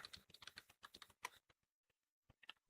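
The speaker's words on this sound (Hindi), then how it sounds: "अब हम यहाँ पे टाइप करेंगे डिस्क पार्ट" A computer keyboard typed at close range in a quiet room, a quick run of light, uneven keystrokes that stops and leaves silence, then a few isolated taps before a louder thump at the very end.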